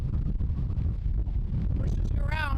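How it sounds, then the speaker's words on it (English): Strong gusting wind buffets the microphone on a creek-side trail hike, a loud, continuous low rumble throughout with a brief whistling tone near the end. "but it's pretty windy out"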